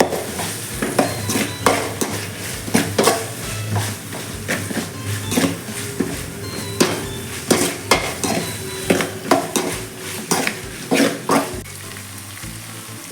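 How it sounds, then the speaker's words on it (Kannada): Curry leaves fry in a pan for egg green masala, a close, steady sizzle overlaid with frequent sharp metallic scrapes and taps from a spoon stirring. "ಫ್ರೈ ಮಾಡಬೇಕು."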